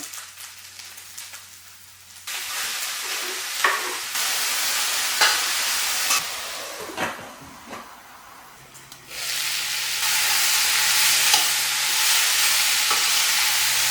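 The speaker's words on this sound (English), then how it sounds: "in a pan with a tablespoon of oil, zucchini and aubergine and 1 onion, sauteing them" Zucchini, aubergine and one onion sauté in a tablespoon of oil in a pan, a close hissing sizzle that jumps louder in stages as the pieces are added and stirred, with intermittent scrapes and clacks of the spoon.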